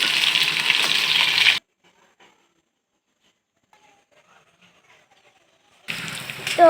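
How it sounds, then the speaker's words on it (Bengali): Tilapia fish pieces frying in oil in a pan and being flipped: a dense sizzle opens, drops to near silence for several seconds, then returns loud toward the end. "মাছগুলো উল্টে দিচ্ছি এই পিঠটা ভাজি হয়ে গেছে অন্য পিঠটায় এখন উল্টে দেবো দিয়ে অন্য পিঠটি ভাজি করে নেবো"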